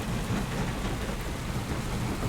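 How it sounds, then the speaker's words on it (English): Heavy rain pours in Farming Simulator 25, a steady dense wash of downpour with a low rumbling undertone, like distant thunder, holding constant throughout with no voices. "it is raining like crazy"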